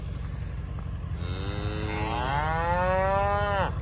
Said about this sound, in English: What's up, you hefty heifers?